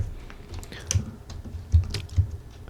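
Keys clatter on a computer keyboard in quick, irregular taps, with a few heavier strokes standing out. The typing is close and clear, and no one speaks.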